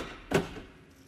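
A Mercedes G-Class locking with a single sharp mechanical clack, brief and moderately close, over a quiet background.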